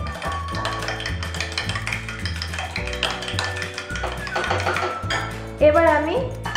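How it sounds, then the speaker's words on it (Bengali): Egg being beaten with a little salt in a bowl for crispy chicken popcorn, heard as quick repeated taps and stirring clinks against the bowl, with a voice and tonal background sound over it. "এবার আমি ডিমটাতে সামান্য নুন দিয়ে আমি একটু গুলে নেব"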